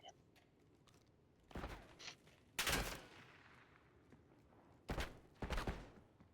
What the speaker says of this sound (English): I'm shooting at the teammate on the other side